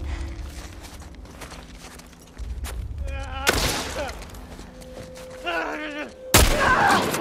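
Gunfire in The Last of Us: a couple of loud, sharp bursts of shots stand out over low game ambience and scattered footsteps, the last burst the loudest.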